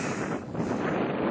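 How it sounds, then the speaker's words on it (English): Steady wind buffets the microphone outdoors in freezing fog, a continuous broadband rumble and roar that stays loud for the whole stretch with slight swells, no voices. "the wind is always the other way"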